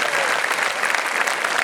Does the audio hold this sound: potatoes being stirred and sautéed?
no